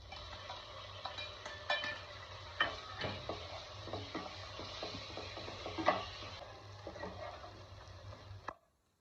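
Eggplant goes into a hot pan of roasted spices and is stirred for Khandeshi bharit, with a soft sizzle and repeated scraping and tapping of a spatula, close and quiet, stopping abruptly at the end.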